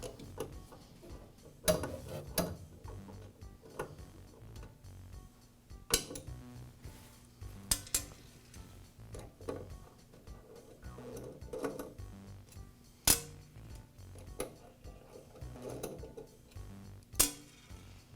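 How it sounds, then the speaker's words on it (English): A wrench loosens screws on the blade clamping bar of a DeWALT planer, with exposed knives: sparse metallic clicks and ticks come close and fairly quiet, spaced irregularly over a low hum. "I'll go ahead and remove each of those screws with the wrench that came with the planer"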